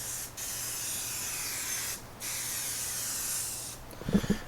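Aerosol can of tire dressing sprayed generously onto a car tire in a long steady hiss, broken by two brief pauses, with a few faint handling knocks at the end.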